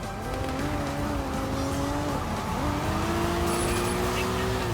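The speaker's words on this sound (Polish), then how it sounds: "Masakra z tym moim prowadzeniem auta tutaj w tej grze." A car engine holds a steady drone in the video game Sleeping Dogs, its pitch stepping up and down through gear changes, loud and continuous with a faint tire squeal underneath.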